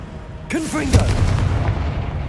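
Confringo blasting spell in Hogwarts Legacy: a sharp burst of fiery, booming energy lands once and then rolls into a dense, rumbling roar that carries on loudly, with brief speech-like tones just before the blast.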